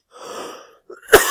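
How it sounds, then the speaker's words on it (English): A teacher coughs during a history class, first a soft breathy wheeze, then after a short pause one sharp, loud cough burst close to the microphone. "I'm sorry for the coughing."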